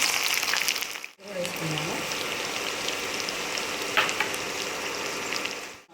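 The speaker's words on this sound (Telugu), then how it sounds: "దానికి సరిపడా ఆయిల్ పోసుకున్నాము. తర్వాత ఉల్లిపాయలు వేసుకున్నాము" Onions frying in oil for a tempering in a pan, a close steady crackling sizzle broken by a brief gap just after a second, with a short muffled knock and some faint background voice.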